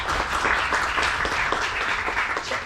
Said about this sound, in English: Let's have a big round of applause for yesterday's event.